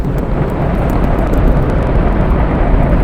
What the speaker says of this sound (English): How's this for a severe storm, huh?